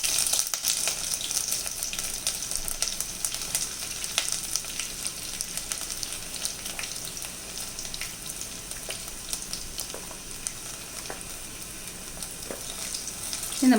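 Chopped garlic and ginger frying in hot oil with mustard seeds for a tuna fish curry, giving a steady, close sizzle that holds for the whole stretch with light crackling and no voices.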